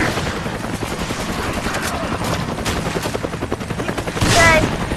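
Gunfire in the video game Resident Evil 5: dense, continuous bursts of rapid shots and automatic fire rattle throughout, with a brief louder blast near the end and faint talk in the background.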